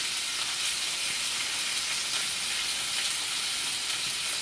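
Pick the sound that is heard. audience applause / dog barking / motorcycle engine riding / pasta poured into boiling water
pasta poured into boiling water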